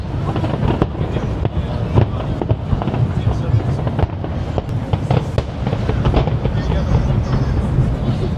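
Fireworks crackle and pop continuously amid a loud, dense rumble of booms at a 2025 fireworks festival in Yokohama, Japan, with people talking nearby throughout.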